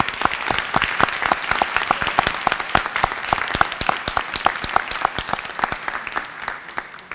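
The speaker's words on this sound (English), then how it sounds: "give a big round of applause for all the parents, for all the help and assistance" An audience at a school event claps for the parents, a dense steady round of hand clapping that tapers slightly toward the end, nearby and without talk.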